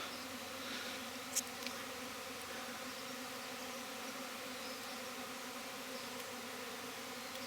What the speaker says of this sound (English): That top hive's beginning to throw a swarm.